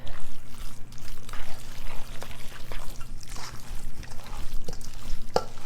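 Hamburger casserole ingredients being stirred together in a bowl, giving a steady, close, wet squishing and scraping texture that continues throughout with no talking.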